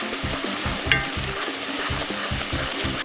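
Ingredients sizzling in a pan and stirred in a regular scraping rhythm, a steady close frying hiss with a single sharper clink from the spoon.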